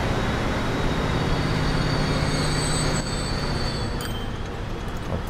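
BR 218 locomotive train pulling in at a food factory in Transport Fever, a loud steady rolling rumble with squealing wheels and high metallic tones, easing off slightly near the end.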